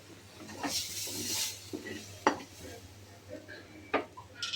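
A spoon stirs a spice paste into aloo biryani rice in a metal pot, making soft scraping and shuffling sounds with a couple of sharp clinks against the pot, close and moderately quiet.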